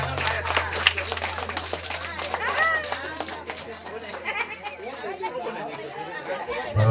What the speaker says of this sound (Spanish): Fuerte los aplausos para la raza de Estrada